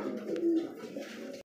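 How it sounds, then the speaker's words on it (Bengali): A pair of pure white Lakha pigeons coo in a low, continuous murmur that stays close and steady for about a second and a half, then stops abruptly. "আপনারা দেখতে পাচ্ছেন সাদা ধবধবে কালার মধ্যে আরেক জোড়া লাখা কবুতর"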